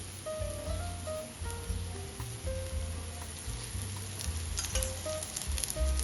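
Gram flour besan pancake sizzling in oil on a pan, a continuous close crackle and spatter with faint low humming music underneath and no talking.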